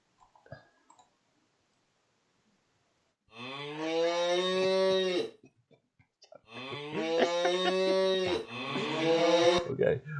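Cows in a Unity video game scene let out two long, loud, sustained moos in succession after a few faint clicks, separated by a short pause.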